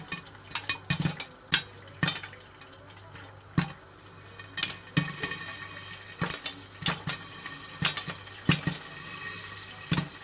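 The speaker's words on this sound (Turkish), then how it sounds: "Evet patlamaya başladı mısırlarımız." Irregular sharp pops of popcorn kernels bursting in a pot, in uneven clusters, close and fairly loud, with a faint steady hum underneath and no talking.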